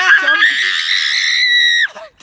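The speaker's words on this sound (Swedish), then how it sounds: "Han skriker 24-7." A boy screams loudly and shrilly in a subway, one sustained high-pitched cry of nearly two seconds that cuts off abruptly, followed by a brief breath.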